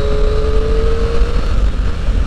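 A Triumph Street Triple 660 S motorcycle accelerates hard, its engine giving a loud, close, steady drone with a rising tone that holds through the clip and then fades slightly.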